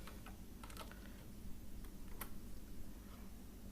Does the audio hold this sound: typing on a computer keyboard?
yes